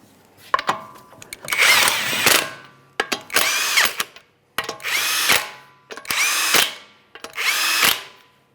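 Power tool running down lug nuts in a crisscross pattern on a 2009-2014 Nissan Maxima wheel: five separate bursts of whirring and rattling, each about a second long, close and loud, separated by short pauses.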